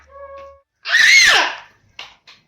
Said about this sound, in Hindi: अरे चिल्लाने लग गई, चिल्लाने लग गई यार